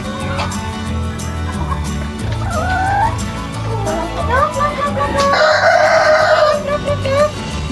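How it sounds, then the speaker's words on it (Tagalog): Two brown roosters crow inside a farm room among other chickens, loud close crows rising over constant clucking and poultry chatter, with one especially strong drawn-out call near the end. "Dalawa ang roster nila sa room na to."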